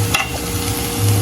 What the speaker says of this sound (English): So add my egg, yeah. And just mix it here.